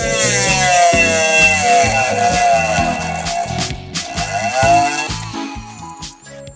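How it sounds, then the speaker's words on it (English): A Dremel rotary tool grinds down a printing press part, a loud, steady high-pitched whine with a rhythmic chatter pulsing underneath as the bit bites into the metal. "So now we're going to adjust it with a Dremel."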